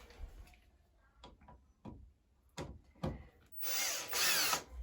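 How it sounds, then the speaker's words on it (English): A power drill unscrews an electrical outlet in short, close whirring bursts separated by pauses, then runs in a longer, steadier spin near the end, with no talk. "Sometimes you can use a drill, but I have one. Maybe I'll use it."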